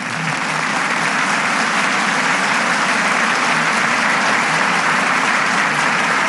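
A large crowd at a Rally of Hope international conference in South Korea gives a warm, sustained round of applause near the close of the rally, steady and full for several seconds.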